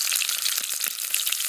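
Pork tenderloin fries in a pot on a Dot stove with a 4-loop pot stand, giving a steady, close, bright sizzle with small crackles and pops throughout.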